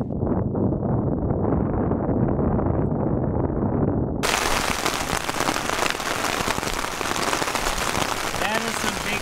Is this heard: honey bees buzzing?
no